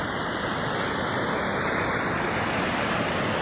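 Broad, steady rush of the Ravi river flowing past Manjari Garden in Chamba, a constant even roar of water with some wind, alone without voices.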